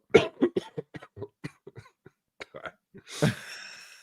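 A person caught in a coughing fit, a rapid string of short sharp coughs and gasps close up, ending in a louder burst that trails into a wheezy, breathy laugh-like rasp.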